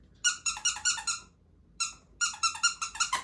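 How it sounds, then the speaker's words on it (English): A squeaky dog toy squeezed close up gives two bursts of rapid, loud, high squeaks, about six in quick rhythm, a short pause, then a longer run of seven or so, with no talking. "Look, it squeaks."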